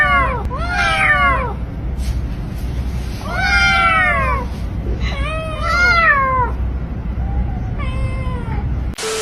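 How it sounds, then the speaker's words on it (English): Several kittens meow in quick overlapping bursts, rising and falling calls close to the microphone, coming in clusters separated by short pauses over a low background hum. "These kittens will amaze you with how harmoniously they meow."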